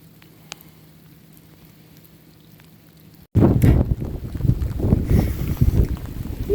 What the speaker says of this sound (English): You could say it's a bit windy.